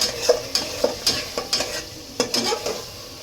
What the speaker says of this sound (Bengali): এই টমেটোটা ভালো করে কষে নিব